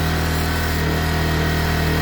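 An old engine idles with the choke on, slightly high revs, loud and steady with a fast, constant hum and no change in speed throughout.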